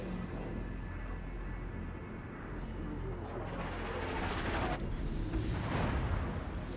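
Naval artillery fire in the World of Warships game, with dense rolling booms and bursts layered over a continuous loud battle rumble for several seconds, with no clear pause.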